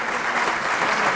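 Audience applause at a religious lecture on tefillin, a dense crowd clapping steadily for just over a second with no voices.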